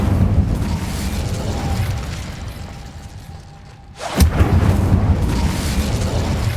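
An Incendio fire spell cast in Hogwarts Legacy bursts out as a sudden booming whoosh after a brief lull, over a dense rumbling game soundscape.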